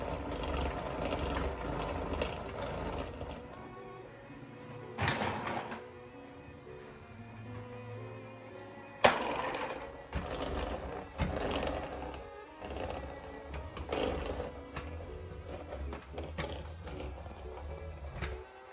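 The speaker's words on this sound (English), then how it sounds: "With an omnidirectional dual-motor cleaning system, it does the work for you" Toy robot vacuum won as a Dave & Busters prize runs with a rough mechanical whir and ratcheting, clattering gear noise, broken by a few sharp knocks; no one speaks.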